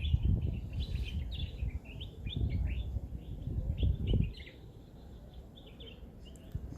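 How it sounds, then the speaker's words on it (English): Birds chirp and tweet repeatedly in short bursts over a low outdoor rumble, fairly distant and moderately quiet. "Listening to the birds,"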